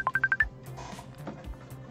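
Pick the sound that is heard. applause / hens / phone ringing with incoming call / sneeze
phone ringing with incoming call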